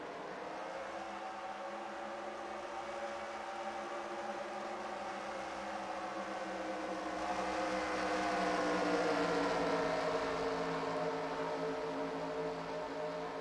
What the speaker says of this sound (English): get the command to fire engines for the Aaron's 499 at good old Talladega.